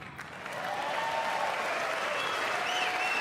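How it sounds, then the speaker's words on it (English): A large political audience breaks into sustained applause at the announcement of a Purple Heart award, a dense, steady wash of clapping that swells in and holds. "The announcement prompted several minutes of bipartisan clapping."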